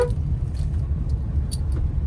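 Inside a car driven in third gear, a steady low engine and road rumble continues evenly and close, with faint clicks over it.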